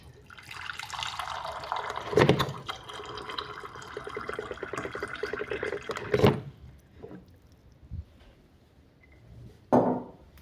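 Water poured for drinking, with drips and liquid filling sounds in an irregular run, a few louder clinks or knocks standing out, close and fairly quiet.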